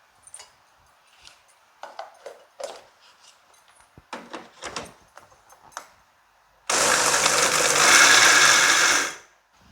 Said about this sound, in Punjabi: ਮਿਕਸੀ 'ਚ ਪੀਸਿਆ ਹੋਇਆ ਤੇ ਇਹਨਾਂ ਨੂੰ ਨਾ ਆਪਾਂ ਛੋਟੇ ਛੋਟੇ ਟੁਕੜੇ ਬਣਾ ਕੇ ਦਰਦੜਾ ਜਾ ਪੀਸ ਲਾਂਗੇ